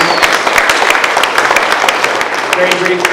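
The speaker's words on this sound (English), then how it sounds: "I think we need to give a round of applause for ham radio operators." Hands clap for ham radio operators at a community fire recovery meeting, dense and loud applause from a seated crowd, with a voice and some murmuring underneath.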